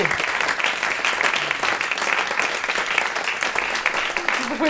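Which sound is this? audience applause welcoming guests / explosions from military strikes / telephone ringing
audience applause welcoming guests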